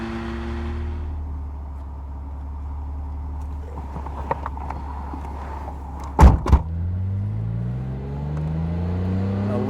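A 2.5-liter straight-six sports car engine idles steadily with a low, even hum, and its pitch shifts near the end as the revs change. A couple of sharp knocks break in partway through. Nobody speaks.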